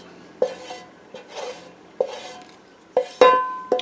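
A whisk scrapes and clinks around a pot of soup in short stirring strokes, with sharp metallic taps against the pot's side at irregular intervals. The sound is close and fairly quiet, with no talking.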